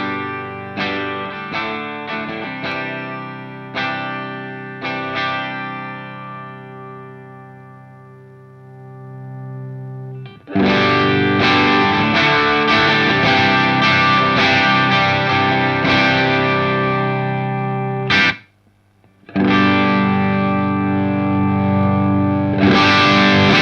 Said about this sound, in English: the Joyo Meteor also seems to have kind of different gain stages, and you can kind of clearly hear when it switches to the next one